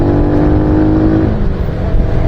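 Rusi Flash 150X motorcycle engine running close by, a loud, steady low drone with a slight drop in pitch partway through and no voices.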